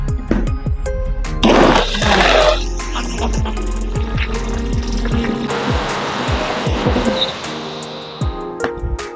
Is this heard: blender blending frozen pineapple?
yes